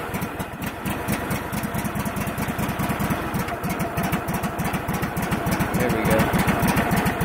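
A Craftsman GT3000 lawn tractor engine idles steadily with the choke off, a smooth, even low putter running close and loud throughout, with a brief spoken remark near the start.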